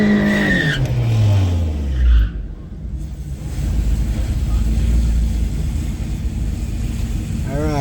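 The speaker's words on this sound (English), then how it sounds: "right, here we go, burnout." A Toyota Celica ST204 with a slipping clutch does a burnout at a drag strip: the engine revs rise quickly, then a loud, sustained roar of spinning, skidding tires carries on to the end.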